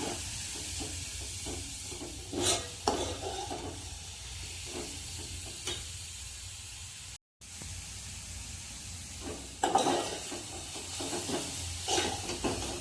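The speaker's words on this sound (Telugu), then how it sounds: "అంటే పచ్చి వాసన లేకుండా ఉంటుందని నేతిలో వేపుకుంటున్నాం అన్నమాట." Grated carrot frying in ghee for carrot halwa, a steady close hiss and sizzle with occasional stirring scrapes and brief louder bursts.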